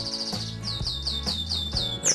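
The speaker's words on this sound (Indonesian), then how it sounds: "nah, itu burung perkututnya" A zebra dove (perkutut) mixing with domestic pigeons gives a run of rapid repeated chirps, evenly spaced and close, over a low background hum with no talking.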